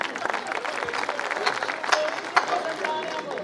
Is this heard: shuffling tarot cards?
no